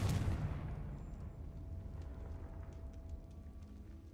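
Spell explosions from Bombarda and Confringo in Hogwarts Legacy: a loud booming blast right at the start that decays into a rumbling tail, with faint game ambience beneath.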